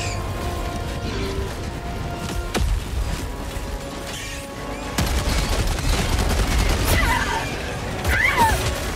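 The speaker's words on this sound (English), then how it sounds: "Oh, we got artillery." Helldivers 2 gameplay with artillery and gunfire, mixing sharp distant blasts and rattling bursts of shots over a busy mechanical background, with occasional creaks and clanks and no clear talk.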